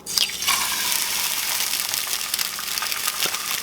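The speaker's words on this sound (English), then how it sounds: "We'll go ahead and spray it" A steady hiss of cooking spray hitting a hot pan before frying an egg, loud and close, with a continuous sizzling wash and no talking.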